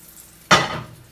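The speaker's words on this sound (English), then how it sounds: "So I'm making turkey bacon and pancakes." Turkey bacon and green spirulina pancakes frying in a pan: a single sharp clatter or sizzle burst of food hitting the hot pan, then a fading crackle, close and moderately loud, with no talking.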